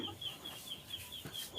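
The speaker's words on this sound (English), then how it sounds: "there are a lot of local birds around" Chickens cluck near a backyard chicken cage where many local birds roam, short repeated calls and a high squawk standing out over a steady outdoor background.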